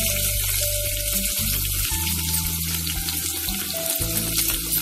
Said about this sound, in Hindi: जब तक ये गोल्डन ब्राउन ना हो जाए तब तक हम इसे फ्राई करेंगे।